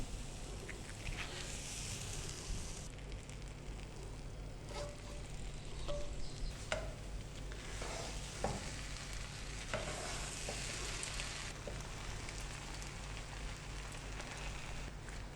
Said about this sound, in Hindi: चावलों और वेजिटेबल्स को हमने अच्छे से मिक्स कर लिया है।